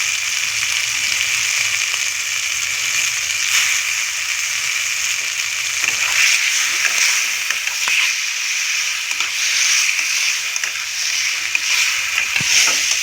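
Chicken bones, potato, vegetables and spices sauté in a pan with a loud, continuous sizzle and hiss, broken by frequent light clatters of stirring close by.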